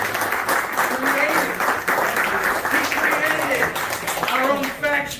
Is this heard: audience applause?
yes